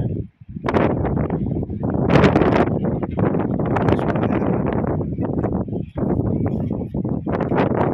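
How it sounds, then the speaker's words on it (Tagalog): Strong, sustained sandstorm wind in Libya roars and batters the microphone, with brief lulls and rustling underneath, loud and close throughout. "Sandstorm."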